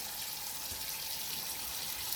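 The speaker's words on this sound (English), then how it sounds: "we're going to go ahead and turn on the water again" Tap water runs steadily into a sink while freshly harvested garden beets are scrubbed. The flow is faint and continuous, a soft, even hiss with no voices.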